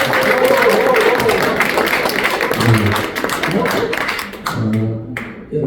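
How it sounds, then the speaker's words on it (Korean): Audience applause at a poetry recital concert and installation art exhibition, a crowd clapping in a busy patter that thins and fades toward the end, with talk and voices mixed in over it. "우리 진짜 엄상석 교수님을 위해서 박수 한번 보내드릴까요?"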